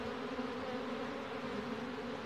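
Honeybees buzz steadily in a close, even hum while a queen bee is marked and her wings clipped, a faint continuous drone with no talk.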